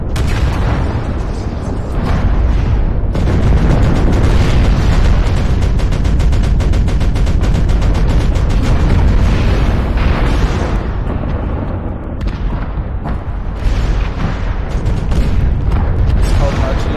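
Enemy artillery strike explosions in the MechWarrior Online video game: a continuous, loud barrage of rumbling booms and blasts that rolls on for the whole stretch, with a voice talking underneath.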